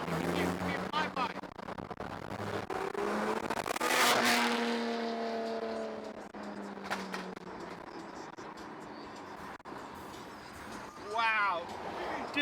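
A GT4 car fitted with a JCR exhaust makes a loud flyby. The engine note climbs to a blaring peak as the car passes close, then drops away as it recedes, with people talking over it.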